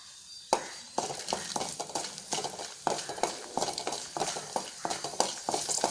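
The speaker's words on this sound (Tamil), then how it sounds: "ஒரு 5 பல் பூண்டு எடுத்து வச்சுருக்கேன். அதையும் இது கூட சேர்த்து நல்லா வறுத்துக்கலாம்." Garlic cloves and dried red chillies roast in a dry pan for idli podi, heard as a rapid series of scraping stirs and clacks from a spatula against the pan over a faint sizzle, close and steady.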